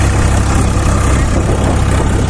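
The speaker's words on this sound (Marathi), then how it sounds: "मॅसी फर्ग्युसन 8055 बॉस मॅग्ना ट्रॅक्टरचा डेमो देत आहे आपण" A Massey Ferguson 8055 Boss Magna 50 HP tractor engine running in a field at a ploughing demonstration, a loud steady low diesel rumble with no other sounds.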